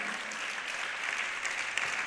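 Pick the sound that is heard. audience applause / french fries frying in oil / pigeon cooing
audience applause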